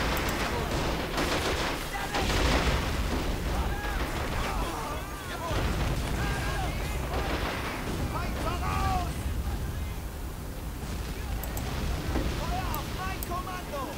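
Dense, rumbling video-game artillery fire and explosions boom continuously over a steady background din, with someone talking through parts of it.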